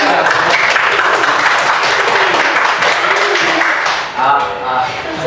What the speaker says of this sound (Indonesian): Kita beri tepuk tangan untuk kelompok yang sudah mendapatkan hasilnya.